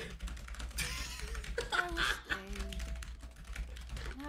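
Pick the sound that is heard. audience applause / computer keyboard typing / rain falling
computer keyboard typing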